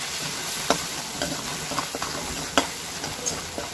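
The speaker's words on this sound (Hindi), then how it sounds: "तो इस मसाले को अच्छे से भून लेंगे।" Kashmiri chili, green chili and coriander powder masala roasting in a pan for a Kerala-style fish curry, with a steady sizzle broken by a few sharp spoon scrapes and clinks as it is stirred, close and alone.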